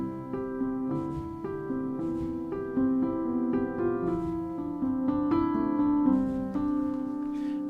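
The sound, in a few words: Native Instruments Una Corda piano played very softly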